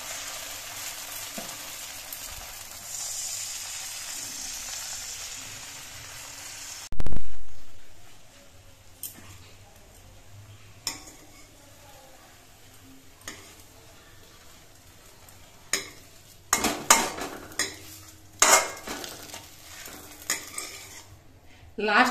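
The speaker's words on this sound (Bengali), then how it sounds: "লাস্ট পাটিসাপটাটাও আমার ভেজে নেওয়া হয়ে গেল।" A patishapta crepe made from flour and rice-flour batter fries in a pan with a steady sizzle for about seven seconds. Then comes a sharp scrape, followed by quieter scattered clinks and taps of utensils on the pan.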